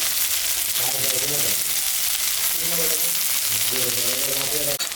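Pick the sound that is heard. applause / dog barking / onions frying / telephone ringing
onions frying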